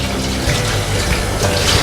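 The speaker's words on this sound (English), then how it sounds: "All you need to do is just run it under some warm water, just like this." Warm water runs from a tap over a silicone baking mat, producing a loud, steady, close-up gushing and splashing with no speech.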